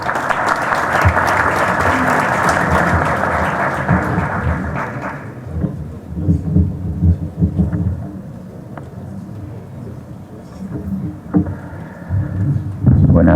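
Audience applause for an engineer from the World Federation of Engineering Organizations being introduced at a formal event, loud and dense for about five seconds, then fading into scattered claps and room noise.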